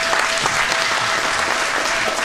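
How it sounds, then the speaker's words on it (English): Steady applause from a gala audience at a charity ball, dense and sustained clapping filling the room throughout without any spoken voice. "Please help me welcome applause for Miss Ladore Milton."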